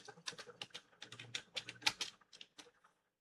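Rapid, close typing of a password on a computer keyboard, with a quick irregular run of crisp key clicks that slows and stops near the end, no talking.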